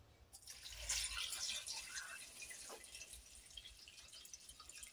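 Water poured into a pot of potatoes in a home kitchen, a soft splashing and trickling that swells briefly then settles into a quiet, faint running sound.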